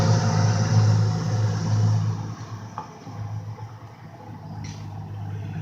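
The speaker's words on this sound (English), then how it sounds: "Detroit Diesel." A fire engine powered by a Detroit Diesel drives by on a response to a CO alarm, its engine a steady loud rumble that swells early, then eases as it passes and fades.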